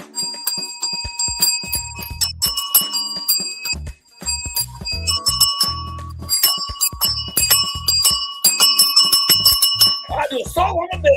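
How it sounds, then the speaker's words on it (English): A bell played as a solo on a morning show rings out in rapid, rhythmic strikes with bright sustained ringing, loud and close, with voices briefly heard at the end. "I do a song on the bell, Michael."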